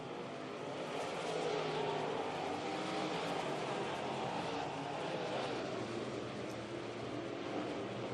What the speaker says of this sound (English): Craig Handley, that car is handling very well.